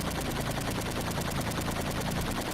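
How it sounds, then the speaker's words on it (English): Helicopter machine guns in the 1985 Atari 8-bit game Super Huey fire as a continuous, fast, rattling chiptune stream, steady and fairly loud with no talk over it. "Machine guns on."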